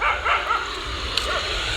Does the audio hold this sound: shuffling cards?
no